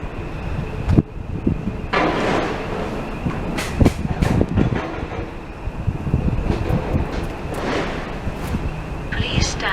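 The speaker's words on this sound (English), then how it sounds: "The train now approaching platform 1. Does not stop here." A Stadler train passes through Brimsdown station without stopping, a steady broadband rumble and wheel noise filling the whole stretch with wind buffeting, a high tone near the end and an announcement voice underneath.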